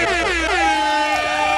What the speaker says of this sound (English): Real quick air horn